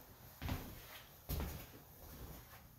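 Old wooden door in an abandoned 1860s farmhouse, moved twice: a creak-and-knock at about half a second, then a sharper thud near 1.3 seconds, both fairly faint against a quiet, hollow room tone with no talking.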